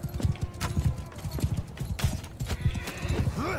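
Horse hooves clip-clop in a quick galloping rhythm in the video game Mount & Blade II, with a neigh near the end and faint voices in the background.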